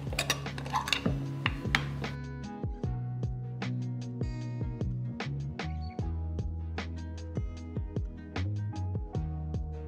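A spoon mixes microwave-warmed honey in a bowl, clinking against the sides in a steady, rapid rhythm of close metallic taps that continue throughout.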